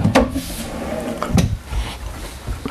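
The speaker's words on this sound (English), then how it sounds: "Some more pull out drawers over here." A solid wood pull-out drawer in a 2024 Redwood 4120GK fifth wheel RV galley slides open and shut, giving a few close wooden knocks and soft sliding rumbles with no talking.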